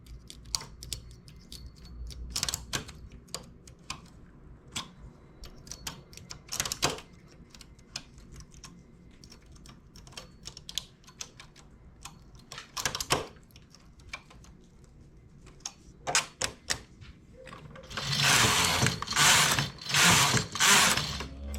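A knitting machine works the rows of a sport-style sweater collar, with needles transferred for shoulder decreases: scattered sharp mechanical clicks and clacks, then a run of loud rushing carriage passes near the end.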